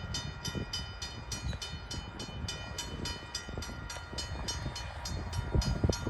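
Freight train rolling past on track in Carlisle, Ohio, with a continuous low rumble and a regular repeating clatter of wheels over rail joints, steady and moderately loud throughout.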